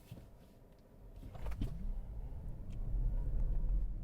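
A 2023 Ford Mustang Mach-E electric car launches in Unbridle mode, a low rumble rising steadily in loudness over a few seconds after a brief whir.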